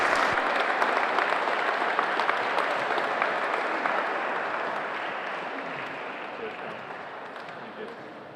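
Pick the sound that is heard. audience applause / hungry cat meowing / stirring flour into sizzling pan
audience applause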